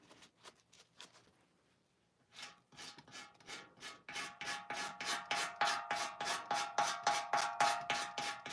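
Hand sanding on an old metal milk can starts as scattered light scrapes, then settles into a steady, fast back-and-forth rasping rhythm that grows louder and more regular.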